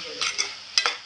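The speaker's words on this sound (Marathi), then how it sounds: "परतून घ्यायचे आपल्याला वांगी।" Pieces of eggplant are tossed in a sizzling pan, with four quick spatula scrapes in two pairs over a continuous hiss, close up and without speech.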